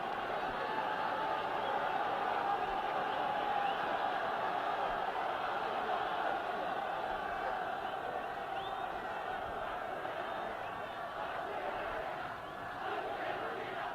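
A rugby stadium crowd at the 1968 Wales versus Argentina test in Argentina shouts for Argentina, a broad continuous roar of many voices that holds steady and dips slightly near the end.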